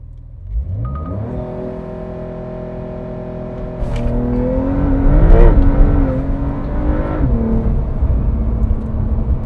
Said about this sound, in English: I was kind of losing traction, so I kind of backed off on the throttle just a little bit